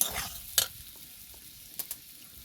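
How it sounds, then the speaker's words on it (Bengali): Potatoes being stirred with onions in a frying pan, a soft steady sizzle broken by a few brief scraping stirs near the start and toward the end, close and fairly quiet with no talking. "আলুটাকে নাড়াচাড়া করে পেঁয়াজের সাথে ভালো করে কষিয়ে নিয়েছি"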